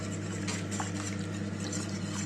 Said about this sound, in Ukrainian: Далі помішуємо.